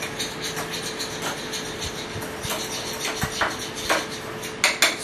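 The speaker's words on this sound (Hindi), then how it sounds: "सरसों का तेल और हल्दी ये आपको मिक्स करना है।" A spoon clinks and scrapes against a bowl while mustard oil and turmeric are mixed together, giving a run of quick, sharp clatters that grow louder near the end, with no talking.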